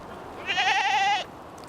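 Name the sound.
goats bleating in an Edmonton park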